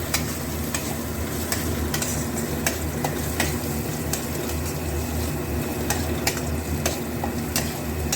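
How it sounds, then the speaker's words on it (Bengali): Gobindobhog rice and matar dal stirred in hot oil in a pan, a steady close sizzle with soft scraping strokes running throughout, with no talking. "বেশি ভাজতে হবে না, জাস্ট একটু নাড়ানো চাড়ানো গরম তেলের মধ্যে।"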